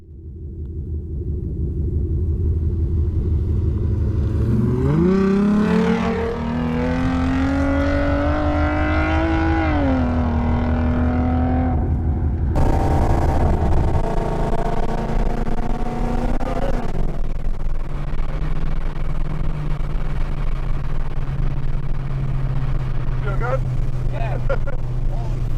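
A tuned 3.7-liter Mustang with 3.73 gears accelerating hard on the road, its engine note climbing through the revs with a loud, close roar, then an upshift and a sustained drone, with voices briefly heard over it.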